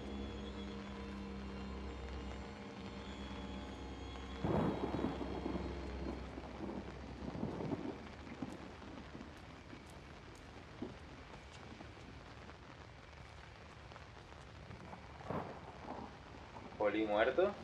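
Steady rain and rolling thunder in the horror video game Outlast: a constant hiss of rainfall with a few louder rumbling bursts rising out of the wash, heard close and continuous.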